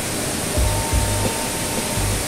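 Rushing water of a waterfall stream on a large rural property in Santa Isabel, a steady loud broadband roar with a few low thuds, no voices.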